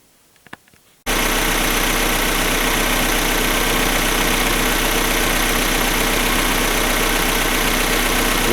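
Opel Omega B with a 2.0 X20XEV engine idling after repair, starting about a second in and running steadily and loudly to the end, with a continuous low rumble and no speech.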